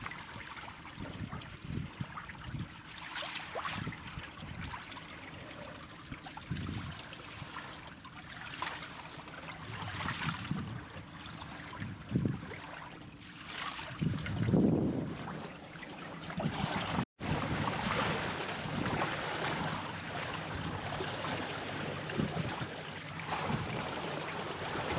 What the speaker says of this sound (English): So the winds are a little bit stronger, they are accelerating, it's picking up.